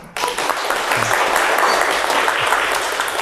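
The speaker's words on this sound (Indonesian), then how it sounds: "tepuk tangan" Classroom applause breaks out suddenly for a student at STIKOM Tunas Bangsa, a dense, fairly loud clatter of many hands that starts abruptly and continues evenly for a few seconds.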